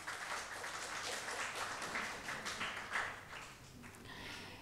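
Audience at a Hamdard Naunehal assembly in Karachi welcoming a speaker with faint, distant, sustained applause, a dense patter of clapping with no talk.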